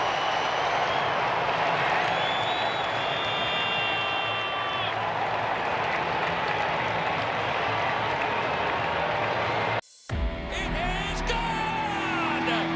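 A ballpark crowd at a Rays–Angels game applauds and cheers steadily for Reid Detmers during his no-hitter, a dense roar throughout that breaks off briefly near the end.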